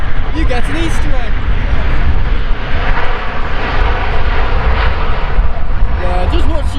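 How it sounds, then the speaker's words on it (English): A Ryanair Boeing 737-800 jet arriving from Milan roars loudly and steadily at Manchester Airport, its engine noise continuous and close, while people chat over it. "Boeing 737-800, flown in from Milan, operating Ryanair's flight 6825."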